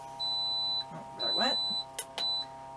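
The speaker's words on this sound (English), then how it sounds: "forgive me for the beeping noise this is getting ready to make" Three high electronic beeps from an egg incubator or candler sound at a steady interval, close and clear, with some faint handling noise between them.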